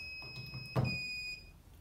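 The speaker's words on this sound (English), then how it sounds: "If power outage happens, like this, the power off alarm will work to remind you." The power-off alarm of an LG102P machine beeping during a power outage, a steady high electronic tone with a short louder click partway through, heard close and alone.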